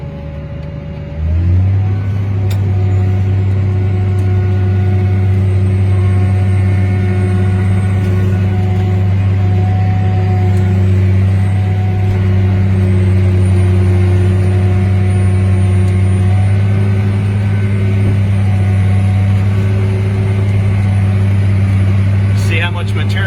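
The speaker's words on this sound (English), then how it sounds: "See how much material this tractor pushes up through here?" A tractor pushing cover-crop material up a trench with its blade: a loud, steady engine drone holds a low, even pitch and barely changes throughout.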